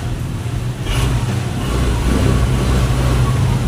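A Honda Click scooter's engine cranks without catching, a steady low mechanical churning that holds on for the whole stretch, fairly loud and close, with no voices.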